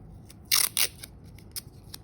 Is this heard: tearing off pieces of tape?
yes